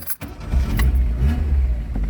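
A car engine cranks briefly and catches, settling into a low rumbling run close by.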